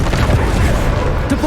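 Bombarda spell blast from Hogwarts Legacy, a dense low rumbling boom that fills the moment, heavy and close, with voices murmuring faintly underneath.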